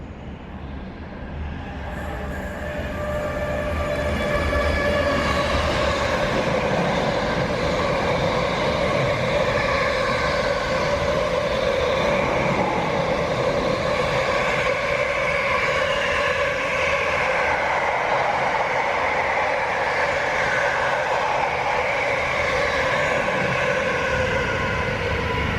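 A train passes at Winchester, building from a quieter approach into a sustained loud roar and rumble with metallic tonal whine, continuing steadily without voices.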